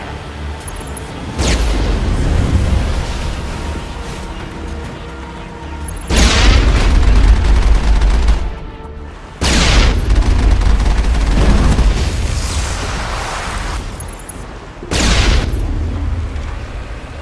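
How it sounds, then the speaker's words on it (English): Heavy artillery in the Mass Effect game, several deep booming blasts a few seconds apart, each followed by a long loud rumbling roar. "There's the artillery that's keeping the Normandy at bay."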